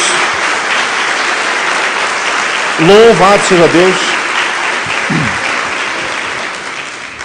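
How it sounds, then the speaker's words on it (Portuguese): A church congregation claps for Jesus in a steady wash of applause that runs the whole time, with a voice speaking briefly over it near the middle. "Dá uma salva de palmas a Jesus"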